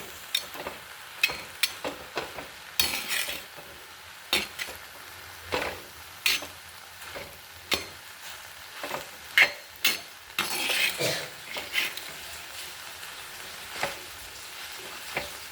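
Food stirred in a frying pan on a hot day, a steady sizzle under repeated scraping strokes of a utensil, close and fairly loud throughout, no talk.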